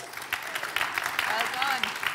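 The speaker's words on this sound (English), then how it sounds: "Give her a big round of applause." Audience applause for a junior chef at the Shannon Region Junior Chef of the Year 2022 event, a steady mid-level patter of clapping with voices mixed in.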